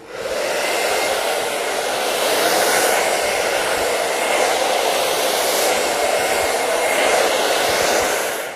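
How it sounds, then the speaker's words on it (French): A hair dryer blows with a loud, steady whooshing roar throughout, close by and uninterrupted, with no voices. "Une fois que vous avez terminé avec les sèche-cheveux"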